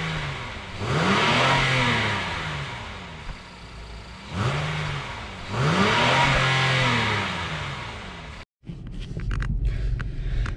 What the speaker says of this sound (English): that was a quick exhaust sound video